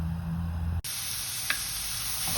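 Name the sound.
chopped onion added to a sizzling pan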